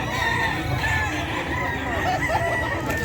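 Gamefowl roosters at Bocaue market in the Philippines cluck and call over a dense market background, with crowing tones continuing throughout at moderate volume.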